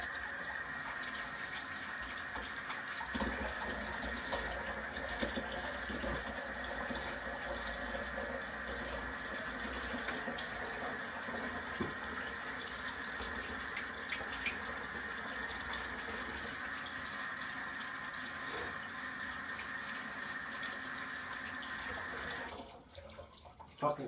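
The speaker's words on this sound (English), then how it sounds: "And I want to wash my hands real quick." Water running steadily from a kitchen sink tap during hand washing, a continuous hiss that lasts about twenty seconds and then cuts off abruptly near the end, with no talking.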